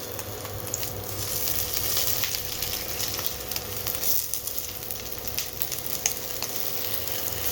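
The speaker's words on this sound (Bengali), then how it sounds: "ঝটপট করে চোবাবো আর ঝটপট করে ভাজবো।" Bread sizzles steadily in hot oil, a close, dense crackle that goes on without pause and with no talking.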